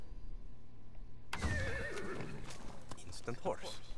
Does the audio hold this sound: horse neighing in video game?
yes